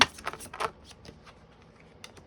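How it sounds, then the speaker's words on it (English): Tarot cards being shuffled up close: quick riffling bursts at first, then softer rustling and a couple of late flicks. "I'm going to live shuffle."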